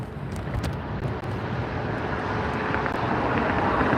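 A JetBlue jet arriving at LAX, heard as a steady, loud broadband roar that holds and swells slightly over a few seconds, with wind buffeting the microphone.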